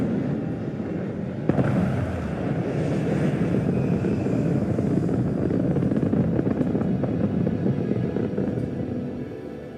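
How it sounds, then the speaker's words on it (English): A spaceship's engines in Starfield power up for takeoff with a loud, steady roaring rumble that swells sharply after a moment and then holds as a sustained drone. "All crew prepare for takeoff."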